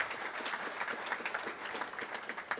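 Audience clapping at an Olympic gold medal press event, a steady patter of many hands with a few sharper claps, fairly quiet and continuous throughout.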